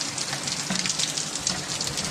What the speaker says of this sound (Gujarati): આખા વરસાદ ચાલુ થઈ ગયો છે